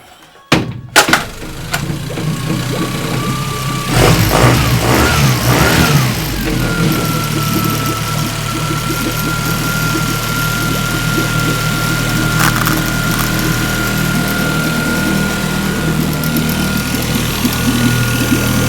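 A Yamaha 15 hp four-stroke outboard motor starts with a few sputtering bursts, then runs at a loud, steady idle with a faint whine, close by and without talk.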